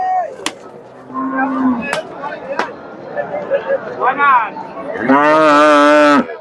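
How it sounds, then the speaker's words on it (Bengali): A Jersey cow moos several times nearby at a Bangladeshi cattle market, ending in one long, loud, resonant moo, with people talking in the background and a few sharp clicks. "আর এই যে জার্সি গাভি"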